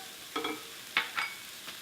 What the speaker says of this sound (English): Give it a quick little stir.